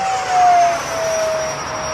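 A JHH A-7 Corsair scale model jet flying a turn with added throttle: a continuous turbine whine and airy roar that swells briefly then holds steady, moderately loud at a distance, with no talking.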